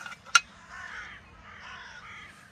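Crows caw from a distance on a cold snowy day, one sharp loud call followed by softer, hoarse cawing that trails off over quiet background.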